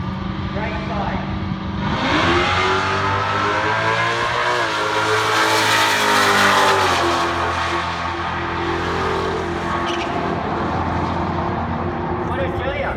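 Dodge Scat Pack on a drag strip run, engine roaring loud and sustained as it accelerates hard down the track, the pitch climbing through gears before easing off, with voices audible over it.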